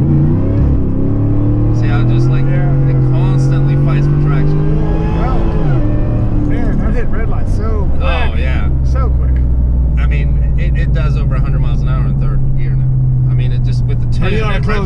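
A 600whp supercharged Ford F150 pickup accelerating with its rear wheels spinning for lack of traction, a loud rising engine roar that drops and climbs again, tire noise and chatter throughout while people talk over it.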